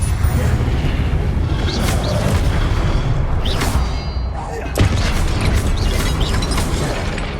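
Confringo and Incendio spells detonate in Hogwarts Legacy with repeated booming, crackling blasts spread over several seconds, loud and close amid a dense wash of game sound, with some speech.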